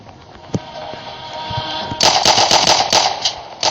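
Pistol fire in a shooting video game: a few scattered shots at first, then a rapid, loud burst of sharp cracks over roughly two seconds, with no talking.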